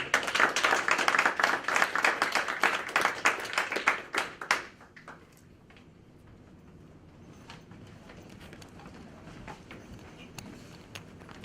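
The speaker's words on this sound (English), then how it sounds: "Let's give them a round of applause." An audience at a Utah Valley University meeting claps loudly and briskly for about four seconds. The applause then fades quickly into quiet room noise with a few stray sounds.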